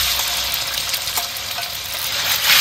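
Beef hitting hot oil in a wok over high heat, a steady loud sizzle with stirring scrapes throughout, swelling slightly near the end, with no talk.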